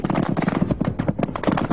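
Rapid, dense bursts of automatic gunfire from the 1988 Spratly Islands naval clash, close and loud, with shots crackling in quick irregular rhythm across the whole stretch.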